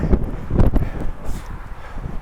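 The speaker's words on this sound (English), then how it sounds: "It's windy." Gusty wind buffets the microphone with low rumbling bursts, rising and falling over a couple of seconds outdoors, with no talking.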